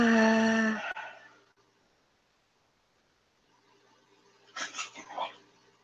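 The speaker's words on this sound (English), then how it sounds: "these dogs are just like, have gone crazy tonight" Several dogs bark at night in a burst at the start, then a quieter stretch before a cluster of whimpering and yipping near the end, fairly close by.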